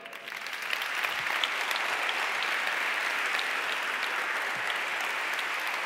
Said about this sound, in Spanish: Ahí está el aplauso para Alfonso Alcántara